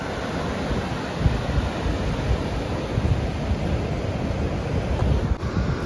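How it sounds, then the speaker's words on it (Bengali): Steady sea surf and wind at Digha beach, a continuous broad roar with gusty buffeting on the microphone and no voices. "আমরা এখন বিচে বসে হাওয়া খাচ্ছি"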